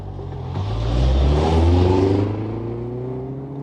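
A car drives off as a story sound effect, its close engine revving up and swelling loudly in the middle, then easing back, with no voices.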